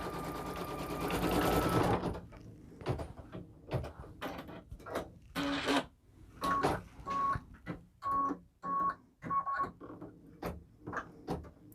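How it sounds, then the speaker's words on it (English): A single-needle embroidery machine stitches out a design on a child's sweatshirt. A dense continuous whirr gives way to a run of rhythmic mechanical bursts and clunks, close and fairly loud. "I'm going to just keep an eye on this and let it go ahead and stitch out"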